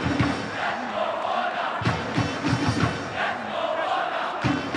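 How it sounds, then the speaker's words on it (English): A stadium crowd at a 2019 Digicel Cup schools football match between Naparima and Presentation shouts and chants in a loud, sustained roar with rhythmic rising calls. "Let's go Holder, the crowd is shouting, because the Naparima keeper is young Holder"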